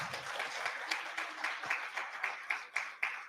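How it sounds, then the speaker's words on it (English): A forum audience applauds steadily for a few seconds, a dense wash of many hands clapping with small swells and rhythmic peaks, moderately loud and with no talk over it. "I would like you to give them one round of applause"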